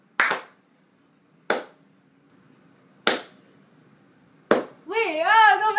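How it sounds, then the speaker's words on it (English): Hand claps layered in afterward for a funk track: four sharp, evenly spaced claps ring out alone over a quiet room, then a wavering tonal sound rises at the end. "Claps were added in post later."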